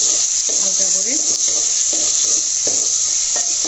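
A cup of chopped onions frying toward light brown in a pan, a loud, constant bright sizzle with repeated scraping stirs, no talk.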